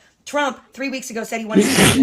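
Someone talking is cut off by one loud, close, breathy sneeze that bursts out at the end after a few words of speech.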